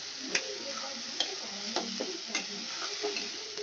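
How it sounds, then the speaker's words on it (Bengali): Spice paste being stir-fried for a katla fish curry makes a moderate sizzle, broken by repeated clinks and scrapes of a spoon against the pan at an irregular rhythm. "তার জন্য ভালো করে মশলাটা আমি কষিয়ে নেব।"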